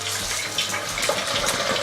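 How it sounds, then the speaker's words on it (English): Potatoes deep frying in a pot of hot oil, a steady broadband sizzling and bubbling hiss that fills the short stretch without pause, close and fairly loud, with no talking. "Hope you can hear me over all that bubbling."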